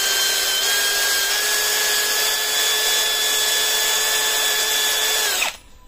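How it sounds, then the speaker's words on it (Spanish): A motorized brush cleans the spark plugs from a Yamaha RD 500 motorcycle, giving a loud, steady high-pitched whine that runs unbroken for several seconds before cutting off abruptly. "Una a una las voy a pasar con el cepillo."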